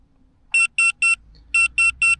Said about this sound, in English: That's the alarm you hear when it gets down in pressure.